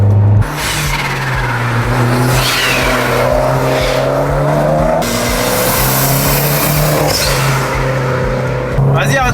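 A tuned Abarth Stage 3 roars close up under hard acceleration, its engine note climbing repeatedly through the gears with brief drops at each shift, while people talk over it.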